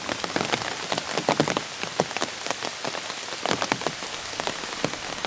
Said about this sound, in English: it has continued to rain